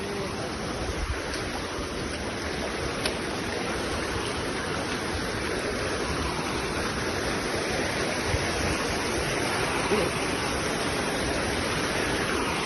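A flooded river rushing past in a steady, dense roar of turbulent water, continuous and loud throughout with no breaks.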